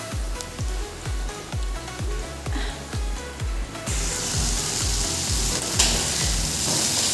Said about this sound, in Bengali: ভেন্ডি ভাজা হচ্ছে এখন